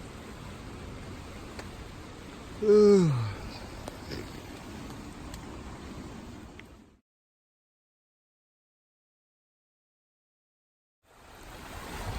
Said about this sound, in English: all the rain through the night, it's swollen the stream a lot